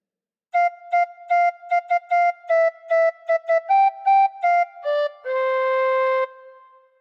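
A tin whistle plays Jingle Bells solo, with clear, pure notes in quick even groups of short tones and a final long held note, close and fairly loud.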